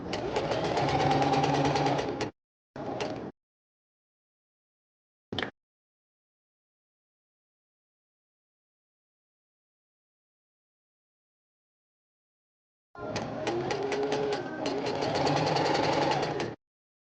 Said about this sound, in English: I will just show you how I sew at the seam allowance with the rolled hem foot